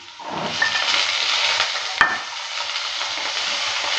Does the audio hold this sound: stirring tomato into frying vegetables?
yes